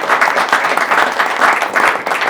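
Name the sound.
audience applause for a panel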